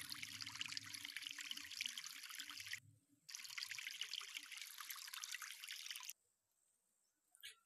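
Plants are watered in the Harvest VR video game, with a close trickling stream of water that runs for a few seconds, pauses briefly, resumes, then stops, followed by quiet and a faint final sound.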